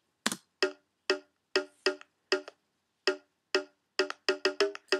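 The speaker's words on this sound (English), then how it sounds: "So you see, it's a very light conga" A very light conga taps out a sparse, syncopated beat pattern, with short dry hits that bunch into quicker runs near the end, alone and close.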